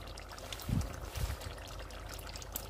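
Nigerian beef stew cooking in a pot over a gas flame gives two brief, soft splashes over a faint bubbling background.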